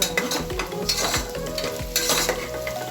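Cauliflower fries in a pan for a mixed vegetable dish, with loud sizzling under repeated scraping stir strokes at a steady rhythm, close up and without talk.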